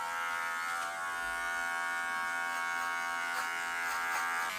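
An electric hair clipper fitted with a 3 to 5 mm guard buzzes steadily and close up during a home haircut, with a constant high whine and no voices.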